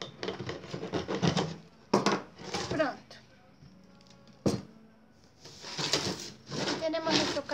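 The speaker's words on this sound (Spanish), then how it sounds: "Entonces, con una sierra, una herramienta de corte que ustedes tengan. Vamos a cortar el PVC." Hand saw cutting through PVC pipe in rasping strokes, close by, with pauses and a sharp knock, while a person talks in between.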